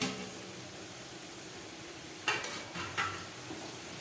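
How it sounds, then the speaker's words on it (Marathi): Potato sticks for french fries getting a second fry in hot oil, a faint steady hiss with a short burst of stirring clatter and scraping partway through, close and without speech. "पुन्हा एकदा तेलामध्ये आपण सर्व फ्राय केलेले बटाटे पुन्हा फ्राय करायचे आहे"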